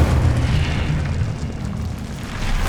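A fiery spell blast from Hogwarts Legacy, a dense, roaring boom with a rumbling low body that stays loud and steady from start to finish with no voices.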